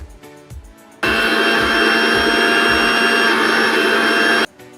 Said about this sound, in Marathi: छोट्या मिक्सरच्या भांड्यामध्ये आपण कांदा काढून घेऊ, बारीक वाटून।